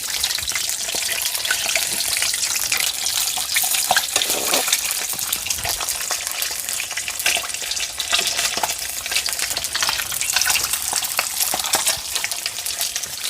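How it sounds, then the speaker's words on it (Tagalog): Luncheon meat sizzles and crackles steadily in hot oil, a constant bright hiss with occasional stirring, along with faint running water. "habang nagpiprito, magigib po tayo ng tubig"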